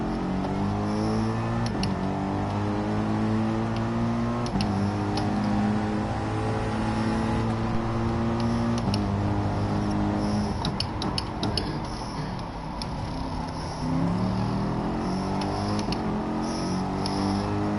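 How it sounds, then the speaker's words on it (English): A McLaren race car in a racing video game pulls away from the start line, its engine note climbing steadily and dropping at each gear change, with a faint ticking alongside. "Mr. Gunman in the McLaren with an outstanding getaway off the line"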